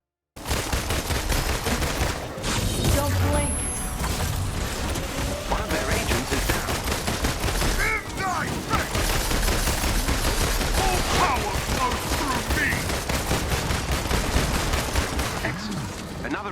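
Black Widow's guns fire in Marvel's Avengers, long dense bursts of rapid gunshots with impacts and game effects, fairly loud and continuous, with a voice talking over parts of it.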